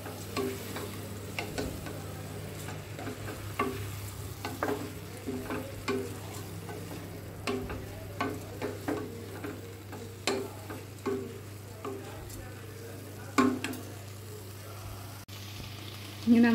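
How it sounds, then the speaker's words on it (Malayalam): Spoon stirring basmati rice in a hot pan while preparing kesar paneer, a light ongoing sizzle broken by repeated scraping taps, close and steady, with no talking. "ഇതൊന്ന് മിക്സ് ചെയ്ത് കൊടുക്കാം."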